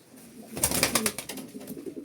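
Ala pigeons, white-crested birds, coo close by in a short burst of soft throaty calls, with a few wing or shuffling sounds after it.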